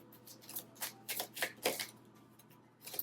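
Tarot cards are shuffled by hand nearby, giving a run of soft irregular riffling flicks and taps spread across a few seconds, fairly quiet with no talking.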